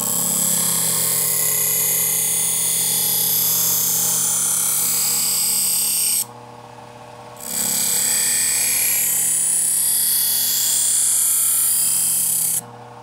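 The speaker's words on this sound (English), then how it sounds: "push that metal up and ground that metal off totally on each side" A knife edge is ground on a waxed powered sharpening wheel, producing a loud, continuous whining grind that cuts out briefly midway, then resumes and stops again near the end.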